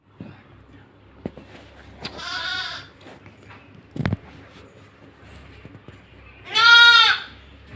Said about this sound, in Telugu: రెండు తలల మేకపిల్ల జన్మించింది